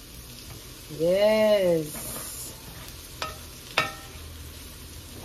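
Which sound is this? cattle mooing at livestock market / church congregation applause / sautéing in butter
sautéing in butter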